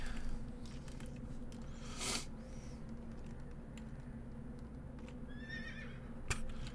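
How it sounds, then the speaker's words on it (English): A horse whinnies in the Star Trek Elite Force video game: a short, rising-and-falling neigh near the end, over a steady low electronic hum with a few brief clicks. "There's a horse here. Star Trek horse."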